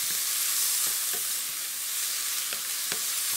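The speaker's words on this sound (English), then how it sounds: "I've got some red onion that's diced up, and we're just going to saute off this onion." Diced red onion sautéing in ghee, a bright steady sizzle with occasional soft knocks from stirring at irregular intervals, close and alone without talk.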